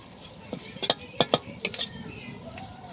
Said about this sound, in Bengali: কারি পাতা কয়টা আমি ভেজে রাখবো